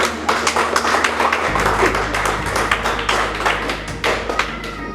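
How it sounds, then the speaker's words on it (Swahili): Bishop's wife clapping her hands at a family day gathering, a steady run of sharp claps, fairly close and prominent, over a low background hum and crowd ambience. "Mama askofu amepiga makofi."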